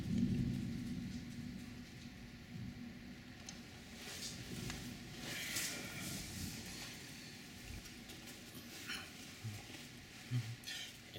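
Hail and rain pelt a backyard in Lenexa, Kansas during an April storm with flooding, a dense steady roar of falling water with low thunder rumbles swelling underneath throughout.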